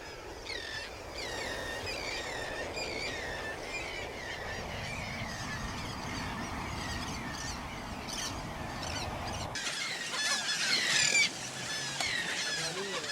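Frigatebirds calling at a nesting colony on an island during egg incubation, with many overlapping high squawks and chatter forming a steady dense din, a low rumble beneath, and a sharper burst of shrill calls near the end.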